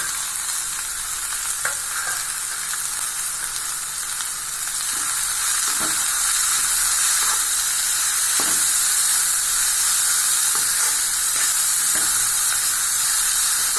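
Steady loud sizzling of beans, carrot, green chillies and egg frying in a hot pan for egg fried rice, with occasional soft clicks and scrapes of stirring throughout.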